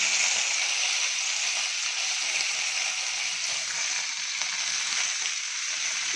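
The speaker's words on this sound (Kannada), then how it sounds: "ಇದೆಲ್ಲ ಸ್ವಲ್ಪ ಫ್ರೈ ಆಗಲಿ." Fenugreek leaves frying in a pan give off a steady, even hiss that stays at the same level throughout, with no other sound.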